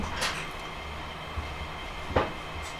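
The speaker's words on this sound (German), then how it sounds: "Oh, ein ganz schön langer Güterzug." A long freight train hauled by three locomotives rolls past in Train Simulator Classic near Wien Westbahnhof, a steady rumble with a couple of brief louder clanks and a squeal-like burst, no talking.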